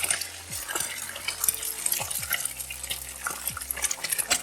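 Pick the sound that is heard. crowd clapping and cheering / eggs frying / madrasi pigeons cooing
eggs frying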